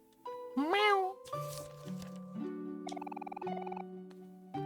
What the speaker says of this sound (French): le tout nouveau chat de Marie